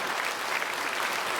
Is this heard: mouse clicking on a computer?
no